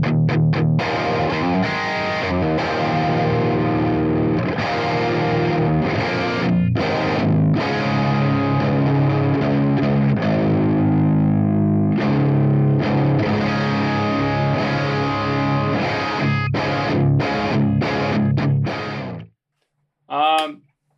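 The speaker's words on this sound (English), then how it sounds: "British Leads 800, that's my go-to amplifier" Electric guitar played through a BIAS AMP 2 British Leads 800 amp model, heavy distorted chords and riffs with sharp stops, loud and close, cutting to silence near the end before a brief final burst.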